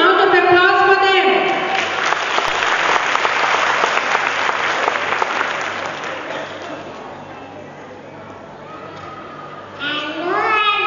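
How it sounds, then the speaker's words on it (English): Audience applause at a toddlers' play group annual day concert in Kolkata, a loud sustained burst of clapping that swells, then slowly fades, with a voice speaking over it at the start and again as it dies away. "One huge round of applause for them"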